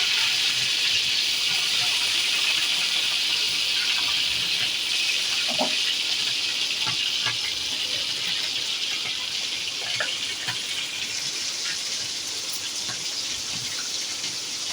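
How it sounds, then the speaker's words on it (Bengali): Medium-sized shrimp frying in a pan: a steady bright hiss with scattered pops and crackles, close and continuous for several seconds, with no talk. "এবার আমি চিংড়ি মাছগুলো দিয়ে দিলাম চিংড়ি মাছগুলো ভালো করে ভেজে নেব মাঝারি সাইজের চিংড়ি মাছ"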